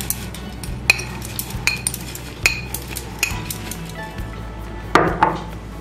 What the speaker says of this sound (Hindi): अब इसको वापस से हिला लेंगे हम।